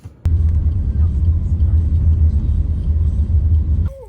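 A car pulls away with a steady, loud low engine rumble that runs continuously close by for several seconds, starting abruptly after a brief pause and easing off at the end.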